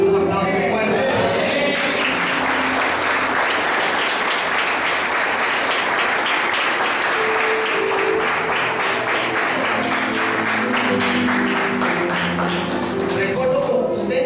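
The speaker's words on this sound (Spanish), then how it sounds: "diga amén y un aplauso fuerte." A church congregation at a Spanish-language Christian service breaks into loud, sustained applause, many hands clapping steadily for over ten seconds, with rhythmic clapping emerging toward the end and faint voices beneath.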